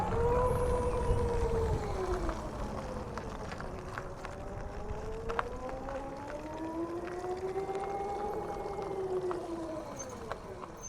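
A Royal Enfield Flying Flea electric motorcycle pulls away in drive, its motor giving a steady rising and falling whine that sweeps up and down continuously over constant road and wind noise.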